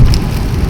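Heavy rain drums steadily on a Honda Civic during a highway drive in Brazil, loud and close, a dense continuous patter with a low rumble beneath and no voices.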